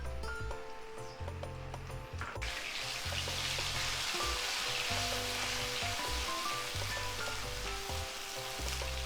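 Onion paste frying in hot oil with whole spices, a steady loud sizzle that swells after the paste goes in and crackles continuously throughout, with faint background music and no talking.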